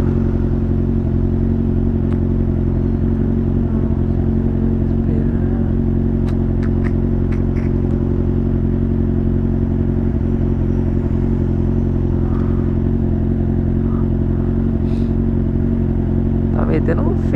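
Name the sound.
Honda Pop 110 turbo motorcycle revving in traffic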